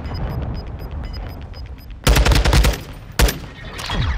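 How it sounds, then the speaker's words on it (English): Cruise missile strike in a video game, with rapid gunfire-like blasts breaking out loud and heavy, then a second sharp boom, over steady game background noise. "Friendly cruise missile approaching target."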